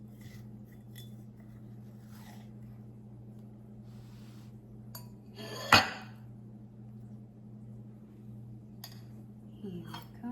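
A metal spoon works through apple crumble in a dish, with soft scraping and one sharp clink midway in an otherwise quiet room.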